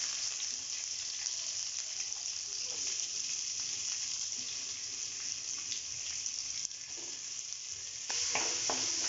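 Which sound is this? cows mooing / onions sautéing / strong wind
onions sautéing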